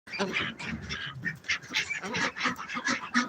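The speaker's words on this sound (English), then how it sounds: "And here's some of our ducks." Farm ducks quack and honk in repeated short bursts close by, several calls overlapping in an uneven rhythm in cold winter weather.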